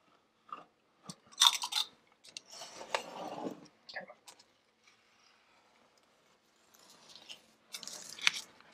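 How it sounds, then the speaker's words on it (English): A box cutter drawn lightly along painter's tape on a freshly painted wall, giving a few short crisp scratchy slicing strokes with pauses between, close and fairly quiet. "I'm going to go over just real lightly with the box cutter"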